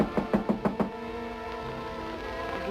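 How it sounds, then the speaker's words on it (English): A film scene from 1947 with a knock on a door: five sharp, evenly spaced raps in the first second, then a sustained musical tone with no talk. "suddenly there was a knock on the door"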